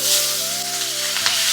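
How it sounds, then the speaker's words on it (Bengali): Salted, turmeric-coated tilapia dropped into hot mustard oil in a kadai, giving a loud, steady sizzle up close that lasts the whole moment, with no voice over it. "তেল গরম হয়ে গেছে, দিয়ে দেবো নুন হলুদ মেশানো মাছগুলো"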